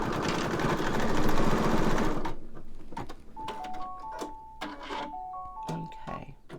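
A sewing machine stitches an embroidery design in a loud, dense mechanical whir for about two seconds, then stops, leaving quieter clicks and handling noises with voices talking in the background.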